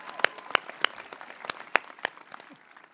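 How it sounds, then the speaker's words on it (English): Scattered clapping from a modest crowd at a graduation ceremony as the class president is honored, a few sharp distinct claps over a soft murmur, moderately distant and brief. "Can we give a round of applause for Patrick King?"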